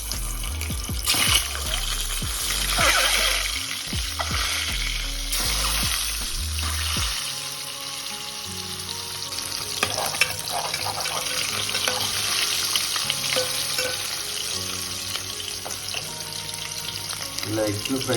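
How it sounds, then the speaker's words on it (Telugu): Eggs fry in a pan of oil with turmeric, giving a continuous crackling sizzle close to the microphone that runs across the whole stretch, with some clinks and kitchen handling noises mixed in. "ఇప్పుడు ఎగ్స్ని ఫ్రై చేసుకుందాం"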